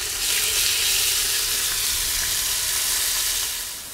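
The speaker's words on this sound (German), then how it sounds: "nehmen wir das erstmal wieder raus und braten natürlich den Rest an" Venison goulash meat browning in a Dutch oven, a steady, dense sizzle of frying that holds loud and even throughout, fading slightly at the end, with no voices.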